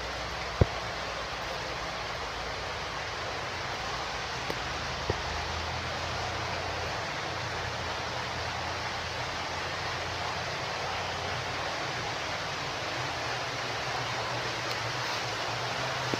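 Creek water rushes through an old tunnel, a dense, continuous hiss and roar of flowing current, steady and enveloping throughout with a few faint knocks.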